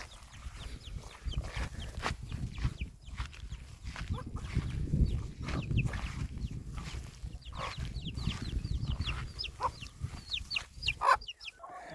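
A broody hen clucks in a henhouse in soft irregular bursts, with other chickens chirping and murmuring nearby against quiet rustling, fairly close and moderately faint, with no voices.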